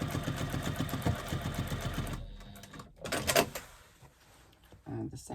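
A sewing machine stitches a bag seam at 3/8 inch allowance with a fast, steady mechanical chatter that stops after about two seconds. A few clicks and handling noises follow, and a voice talks quietly under it.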